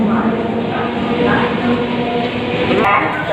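Trains rumbling through Kolkata railway station, a loud continuous roar with rolling wheel noise and a busy crowd wash, with faint voices beneath.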